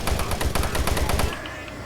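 Rapid automatic gunfire in the video game Doom 3 comes as a close, loud burst of about a dozen evenly spaced shots, then stops and leaves a fading ring.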